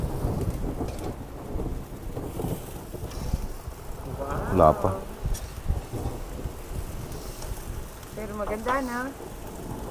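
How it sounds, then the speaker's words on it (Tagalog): A thunderstorm with steady rain and rumbles of thunder, heard beneath people talking close by throughout. "It's thunderstorm."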